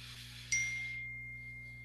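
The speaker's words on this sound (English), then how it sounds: "And the bell time is over." A single bright bell ding strikes once, marking the end of a discussion segment, its clear tone ringing and slowly fading over a low steady hum.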